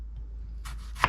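A kitchen knife slices the top off a fresh green tomato, zucchini or squash, a quiet crisp cut ending in one sharp tap on the board.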